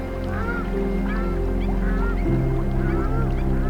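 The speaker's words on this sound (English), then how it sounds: "On the lake, ruddy shell ducks with a broad bill are having a big feast." Ruddy shelducks call on a lake with repeated honking, goose-like cries over a loud, steady background drone, several birds calling in overlapping bursts.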